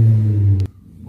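A loud, noisy car rumbles close by with a steady low engine drone that cuts off abruptly partway through, leaving a quiet room with faint handling noises.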